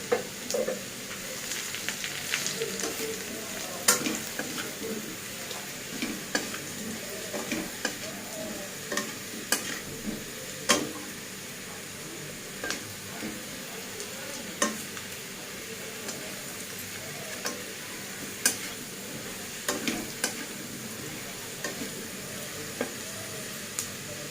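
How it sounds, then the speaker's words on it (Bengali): Whole spices (chilli, cinnamon, cloves, cardamom, cumin and a bay leaf) fry in hot oil in a pan, giving a soft, steady sizzle dotted with occasional crackles and light stirring taps, with no voices. "ফোড়নটা ভাজা ভাজা হয়ে গেছে, ফোড়ন থেকে সুন্দর গন্ধ বেরিয়েছে।"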